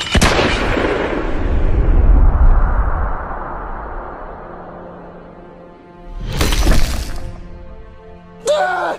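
A gun fires at someone: a loud close blast rings out and decays slowly, a second sharp burst follows a few seconds later, then a brief crack at the end.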